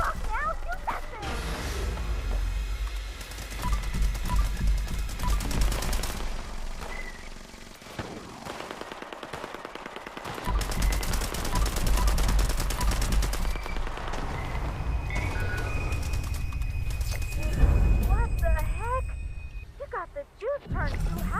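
Video game combat with rapid bursts of gunfire, fast automatic volleys and heavier blasts over a long stretch, mixed with game voices and effects, loud and close.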